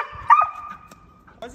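A Malinois dog gives a couple of short barks and yips at close range, with a high whine in between and people talking around it.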